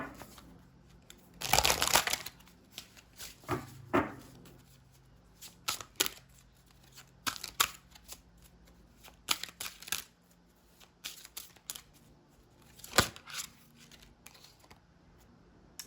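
Oracle cards being shuffled by hand in bursts of crisp riffling and flicking, with short pauses and quieter handling between shuffles; no talking.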